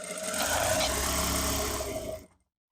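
A 4-thread overlock sewing machine stitches fabric for joggers, a steady close whirring motor run that holds for about two seconds and then cuts off into silence.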